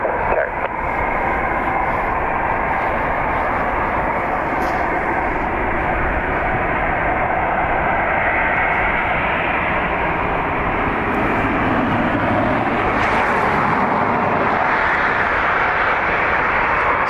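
An Air Baltic airliner operating for Swiss departs Dublin Airport for Zurich, its jet engines a loud, continuous broadband roar that holds steady and swells slightly, heard outdoors with no voices.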